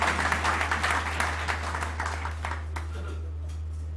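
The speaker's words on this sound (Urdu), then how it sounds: "تو ایک دفعہ سید نعمت علی شاہ صاحب کے لیے تالیاں ہو جائیں." A gathered audience at a talk claps together for a guest, a dense burst of applause that gradually thins and fades over a steady low electrical hum.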